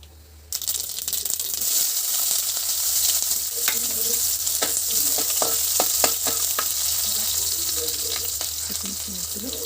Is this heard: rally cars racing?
no